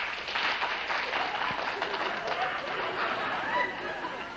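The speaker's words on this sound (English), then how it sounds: "all of those in favor of hearing a commercial applaud" Studio audience applauding during a 1957 live television variety show, a steady wash of clapping mixed with crowd murmur that holds at a moderate level throughout without a clear peak.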